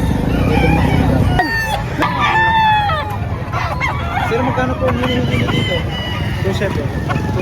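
Chickens crow and cluck loudly at a busy poultry market in Batangas, with a rooster calling close by amid a steady hubbub of people talking and background crowd noise.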